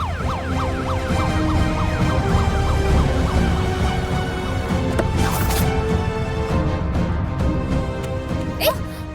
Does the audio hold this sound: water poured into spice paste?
no